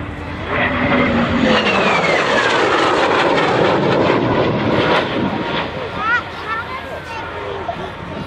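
A de Havilland Venom jet coming in to land, its engine roar rising and holding loud and close for several seconds before easing slightly toward the end.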